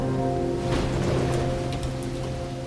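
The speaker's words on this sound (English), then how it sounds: "It's raining now." Steady rain falls outdoors in eastern Turkey during a storm with distant thunder, a dense continuous hiss with no voices, holding level for the whole stretch.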